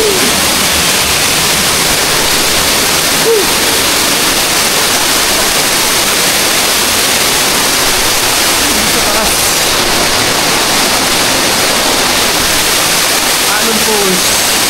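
Naalon Falls, a waterfall reached by crossing a river, pours in a loud, unbroken rushing roar that stays constant and close for the whole stretch, with no distinct voices over it.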